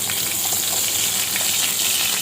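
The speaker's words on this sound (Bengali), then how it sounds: "মাছের মাথা আর লেজকে ভালো মতো ভেজে" Hilsa fish head and tail pieces fry in oil in a frying pan, making a loud, continuous close-up sizzle and hiss with no talking.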